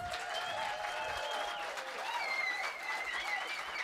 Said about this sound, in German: So viel Applaus bei Bass